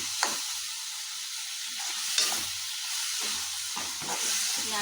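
Onion and tomato masala frying in a pan for egg masala, a steady hissing sizzle with a few soft stirring knocks, close and moderately loud.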